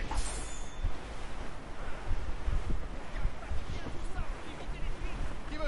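Wind sweeps across the open sea in the sailing game Assassin's Creed Rogue, a constant broadband rush mixed with surf and ship noise that holds steady throughout.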